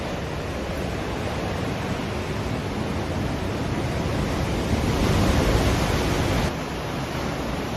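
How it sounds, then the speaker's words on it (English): Ocean waves crash and surge near Aoshima Shrine on its sacred island off Miyazaki, Japan. The surf makes a steady, loud, close-up roar that swells slightly midway, with no voices. "The sight of the waves crashing up close is very impressive."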